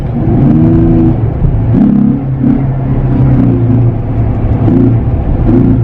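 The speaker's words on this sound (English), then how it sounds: "the cold air intake is so loud" A car engine with a cold air intake roars steadily under load, a loud, continuous intake growl with surging pulses as the throttle is pushed, no talking.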